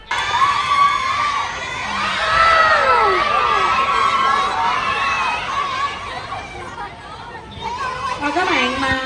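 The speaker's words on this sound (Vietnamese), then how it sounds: "Anh hứa gì mà mọi người hú hét như vậy?" A large crowd cheers, whoops and shouts continuously and loudly at a Vietnamese entertainment show, with excited voices and chatter layered throughout and swelling in waves.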